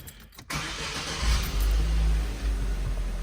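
A Chevrolet compact car, one of the Onix, Prisma, Spin or Cobalt models with a crankshaft position sensor fault and power loss, cranks and fires up after a short click, then settles into a steady, close, rumbling run.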